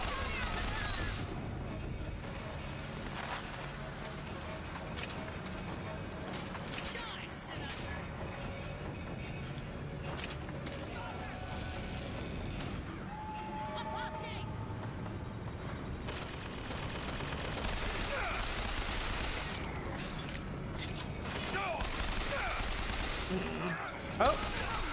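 Gunfire rattles in Bioshock Infinite as repeated bursts and sharp shots pile up over a busy, noisy game soundscape. The shooting continues throughout, with occasional talking in between.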